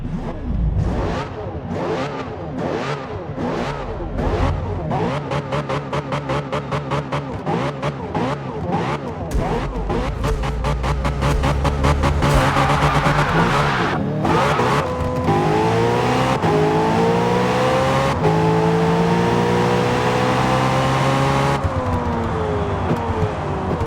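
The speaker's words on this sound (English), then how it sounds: "they've apparently updated the sound for the McLaren P1" A McLaren P1 engine in Forza Motorsport revs and roars through rising and falling gear changes, loud and continuous, with a racing game's synthetic engine tone.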